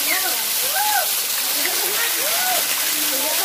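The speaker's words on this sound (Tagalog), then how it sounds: "Naliligo na sila sa waterfalls." A waterfall roars loudly and continuously while people bathe and splash in its pool, with voices and shouts of children rising and falling over the rushing water.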